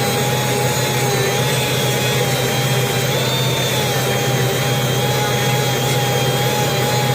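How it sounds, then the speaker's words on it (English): Sanding the port of a Mazda 13B rotary engine housing from an RX-8/RX-7 smooth, a steady close abrasive rubbing and whirring that runs continuously and loud with no pause, a faint tonal whine riding over it. "I put them in there and sand it down."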